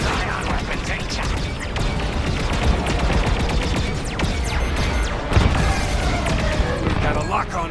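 Ion weapons fire in rapid bursts during a Star Wars Squadrons space dogfight, dense crackling shots and impacts overlapping continuously at close range, loud throughout with game chatter mixed in.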